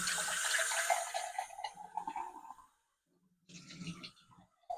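Tap water runs steadily into a container for cooking ramen in a hotel room with no kitchen, loud and close for about three seconds, then stops briefly before a shorter second burst of flow.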